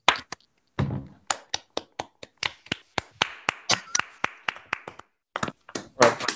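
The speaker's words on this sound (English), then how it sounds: "So let's just give them a round of applause." Applause for the speakers at an online astronomy conference, heard as a small number of sparse, separate claps and taps over several seconds, close and uneven, with a short pause near the end before a few final claps.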